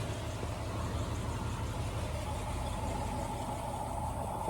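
A 1964 Ford Ranchero's engine idles steadily just after a cold start, a smooth, even low rumble that runs unbroken throughout with no talking over it.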